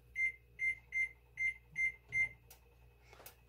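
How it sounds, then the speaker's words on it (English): A kitchen timer beeps six times in an even, evenly spaced series while being set to twenty minutes during home fish-and-chips cooking, followed by a faint clatter. "I'm going to go ahead and set the timer for about 20 minutes."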